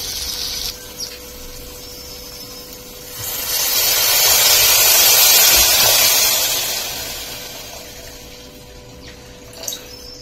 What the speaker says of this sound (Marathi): आता यामध्ये पाणी टाकून घेऊ.